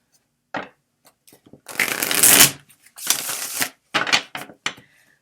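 Playing cards are shuffled by hand in several short riffling bursts, crisp and close, with quiet pauses between them and no talking.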